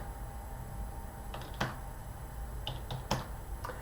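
A few sparse keystrokes on a computer keyboard while entering a number into an Excel spreadsheet: quiet clicks spaced irregularly over a low, steady room hum, with no speech.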